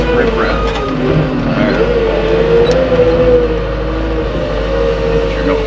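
A wheeled skid steer backs up onto riprap at a yard, its engine a loud, steady close drone with slight rises in revs throughout.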